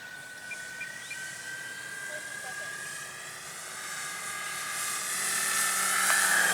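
An E-flite Extra 330 RC model airplane flies overhead with a buzzing electric motor whine that shifts in pitch and grows louder as it comes closer, while people talk nearby.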